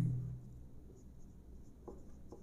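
Chalk or marker scratches briefly across a board while maths is written out, soft close strokes with a couple of sharper taps.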